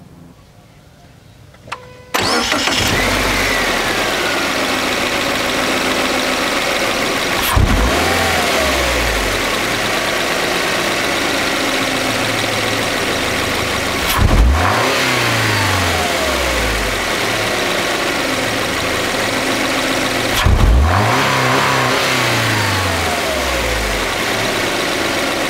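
A Subaru XV boxer engine with a CVT cranks to life, idles close by, then revs sharply three times, each rev climbing and dropping back to idle.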